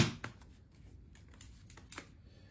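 Tarot cards are shuffled close up in a brief burst of soft riffling and flicking taps, quiet and without talk.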